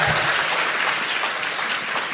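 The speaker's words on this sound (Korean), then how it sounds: "박수 한번 보내주세요." Applause from an audience at a political talk concert fills the space, dense and steady clapping at moderate loudness with no voices over it.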